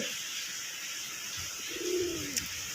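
A male Golla pigeon coos near a female, giving one soft, rolling coo with a low, throaty tone that rises and falls. It sits over faint background hiss, with a brief click just after.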